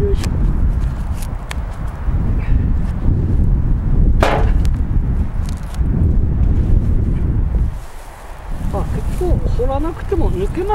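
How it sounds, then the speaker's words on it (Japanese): Gusty wind in a carrot field during harvest, a continuous loud rumble buffeting the microphone, with brief knocks and rustles and a short lull near the end. "ちょっと風が出てきましたね。"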